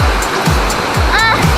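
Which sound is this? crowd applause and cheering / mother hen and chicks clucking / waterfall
waterfall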